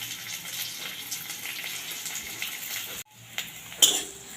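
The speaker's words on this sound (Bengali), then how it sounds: "এবারে পেঁয়াজ কুচনো দিয়ে দিচ্ছি।" Chopped onion and garlic fry in oil in a wok for an egg chilli dish, giving a steady close sizzle that cuts off briefly midway, then resumes with a sharp crackle near the end.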